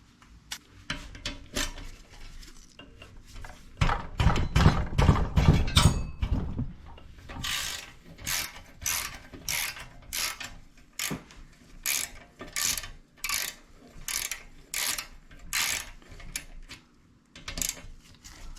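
A ratchet wrench clicks in quick bursts while loosening the muffler bolts on an MTD 265 SU OHV horizontal-shaft engine, close and distinct, with a louder rubbing clatter early on and no talk.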